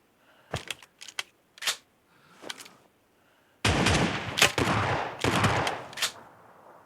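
Shotgun fire in a team-based shooter game match, a few sharp isolated blasts followed by a denser stretch of loud, close shots and clatter with no speech.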